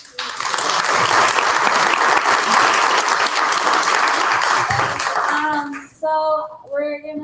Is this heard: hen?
no